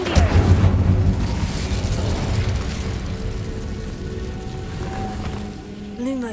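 Fire spell blast in the Hogwarts Legacy video game, a loud booming burst that opens the clip and rolls into a fading rumble.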